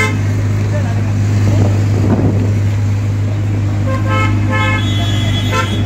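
Loud exhaust of a Nissan GTR in Mumbai street traffic, a sustained heavy roar and rumble with horn toots and traffic around it, close and dominant throughout, with voices mixed in.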